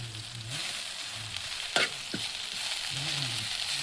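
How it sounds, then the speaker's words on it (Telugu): Gongura leaves fry in a little oil with a steady, close sizzle, broken by a couple of sharp clicks like a spoon against the pan. "చక్కగా కొద్ది కొద్దిగా గోంగూర వేసేసుకుందాం ఆయిల్ కొద్దిగా చాలు తొందరగా మగ్గిపోతుంది"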